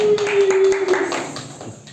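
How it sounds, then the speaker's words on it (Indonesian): A classroom group claps briefly for a teacher after a microteaching session, scattered hand claps fading out over about two seconds, with a steady electronic tone underneath at first. "tepuk tangan sekali lagi untuk Pak Jamal"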